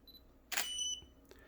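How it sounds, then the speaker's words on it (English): A camera shutter release fires, triggering a Godox V1 flash: one sharp mechanical click followed by a faint high whine as the flash recycles, then a small second tick, in a quiet room. "So now let's press the trigger release. I mean the shutter release button."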